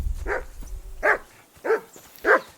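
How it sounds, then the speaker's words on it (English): A dog barks in the Kingdom Come Deliverance 2 video game, giving four sharp, evenly spaced barks at close range over a faint low rumble, with no talk. "And the doggo's going crazy as usual."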